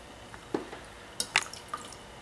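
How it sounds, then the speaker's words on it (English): Wet, squishy drips and a few sharp squelches as water is wrung from a soaked down sleeping bag, quiet and close, in irregular bursts. "I'm still squeezing water out of it."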